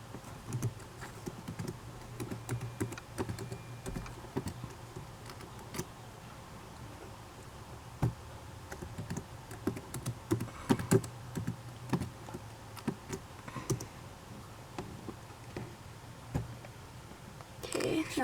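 Keys tap in quick irregular bursts on a computer keyboard as a password is typed, light clicks close by with a faint background hum and occasional voices.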